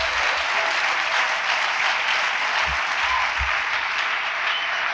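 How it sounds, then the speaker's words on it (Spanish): A church congregation breaks into steady, loud applause during a sermon, a continuous dense wash of clapping with no talking, filling the space throughout. "démosle un aplauso al Rey de la Gloria"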